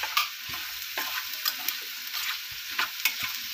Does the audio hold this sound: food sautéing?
yes